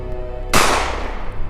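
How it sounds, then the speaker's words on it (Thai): A single sharp gunshot cracks out suddenly, loud and broadband, then decays over a second into a faint background hum. "ก็เกิดเสียงปืนดังขึ้นหนึ่งนัด"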